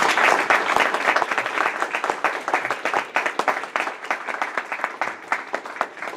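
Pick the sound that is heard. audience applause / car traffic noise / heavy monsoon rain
audience applause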